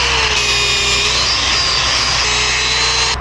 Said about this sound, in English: just sanding down to get a clean weld, clean everything around it